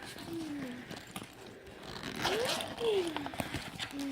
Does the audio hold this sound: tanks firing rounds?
no